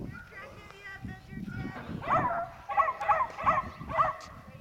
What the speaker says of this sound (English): Emma, no bark.